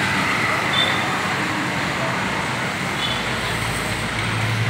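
Steady roar of traffic at a bus arrival gate in Indonesia, with a bus rumbling past amid a continuous loud wash of road noise and no clear voices.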